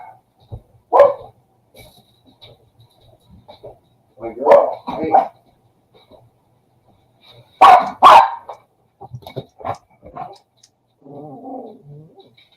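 A dog barks a few times at night, near and distinct, in a quiet room, scattered between short bursts of nearby speech.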